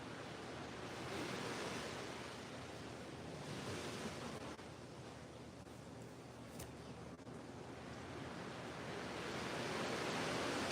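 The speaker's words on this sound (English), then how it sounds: "Can you guys hear the ocean?" Ocean surf breaking along the shore at St. Thomas, a steady broadband wash of waves that swells and recedes, close and fairly loud, with wind noise on the microphone and no talking.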